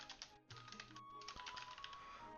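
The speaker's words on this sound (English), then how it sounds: "I'm always hitting caps on this keyboard" Rapid, dense keystrokes clatter on a computer keyboard, continuous and close, with a faint steady hum beneath.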